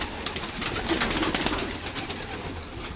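Pigeons in a loft coo softly and continuously amid a busy, rustling background of many birds, with a steady, moderately loud texture and no speech.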